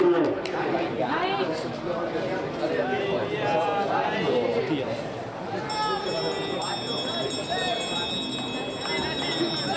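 A bell rung for the final lap of a men's 800 m track race at an athletics meet in Chiari, ringing out over crowd chatter and an announcer's voice in the stadium.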